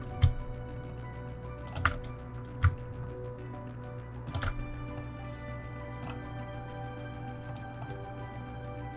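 Computer mouse clicks sound as sharp, isolated ticks spread irregularly across a quiet room, with a few clustered in quick pairs over a low steady hum.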